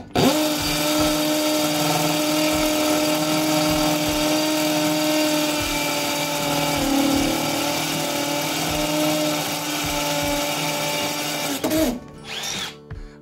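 A Milwaukee M12 Fuel hammer drill bores with a 12 mm bit on speed 2 in hammer mode, giving a loud, steady, rattling whine that holds for about twelve seconds, then cuts off and spins down.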